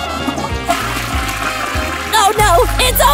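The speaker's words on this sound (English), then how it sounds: "Now let's flush!" A toilet flushing with a rushing swirl of water, then gurgling and splashing that grows louder near the end, heard close and loud.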